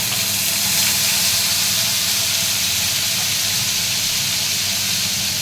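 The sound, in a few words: ginger and green chilli paste sizzling in the pan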